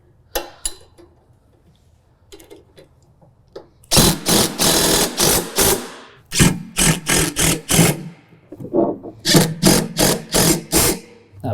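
A 13mm ratchet tightens the nuts on a string trimmer mounting kit for a John Deere Z735M zero-turn mower, giving close, loud bursts of rapid clicking in a steady rhythm, with short pauses between runs.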